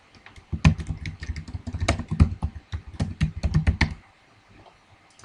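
Someone types a date on a computer keyboard in quick, uneven bursts of close, crisp key clicks, pausing briefly before a final tap.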